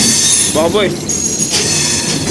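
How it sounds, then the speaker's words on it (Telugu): Bhubaneswar Superfast Express passenger train pulling out of Renigunta station, with a loud continuous rumble of wheels on rails and a shrill squeal. A person gives a short exclamation over it. "రేణిగుంట నుంచి మన ట్రైన్ అయితే స్టార్ట్ అయిపోయింది"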